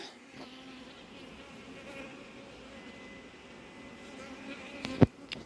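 Honeybees drone in a continuous low buzz close by at a hive, with a couple of sharp knocks near the end and no talking.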